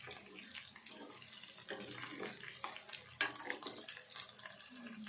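Tap water runs steadily into a sink while chicken pieces are washed with salt, with a continuous splashing hiss and occasional louder splashes as the pieces are handled, close and moderately quiet.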